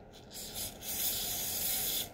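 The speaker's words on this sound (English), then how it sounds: "Again, lightly spray." A spray bottle of water hisses in a few quick bursts over perler beads in a bowl, then one longer continuous spray, close and fairly soft.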